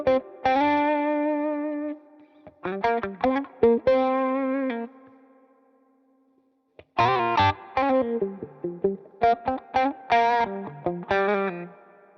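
Electric guitar playing funk single notes with a wah effect and shallow vibrato, choppy rhythmic phrases of short notes and sustained tones separated by deliberate gaps of silence, up close and alone.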